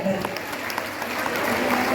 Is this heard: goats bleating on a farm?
no